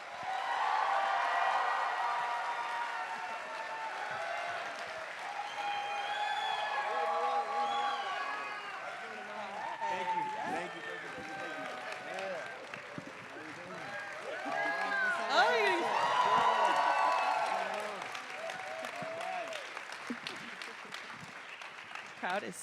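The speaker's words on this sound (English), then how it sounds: "Crowd is so excited." An excited audience at a film Q&A event cheers and applauds, a dense wash of clapping and crowd voices swelling and fading, with people talking over it.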